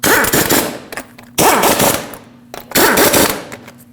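Lug nuts on a 1998-2011 Ford Ranger wheel are driven down by an impact wrench in three loud, close rattling bursts of about a second each, with brief pauses between.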